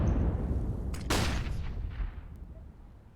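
A single sharp gunshot cracks out in the shooter game CS:GO over a low rumbling background, followed by a faint click and a fading tail.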